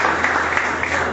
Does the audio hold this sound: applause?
yes